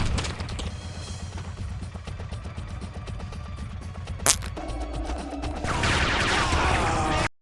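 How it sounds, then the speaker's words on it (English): Sniper rifle alt fire in the video game Gore: Ultimate Soldier, where the shot throws out a bouncing beam. Steady rattling game noise and combat sounds are topped by one sharp, loud zap midway, then a brighter, busier wash of effects. "Right click is alt fire and not scope, and shoots out a bouncing beam penetrating enemies"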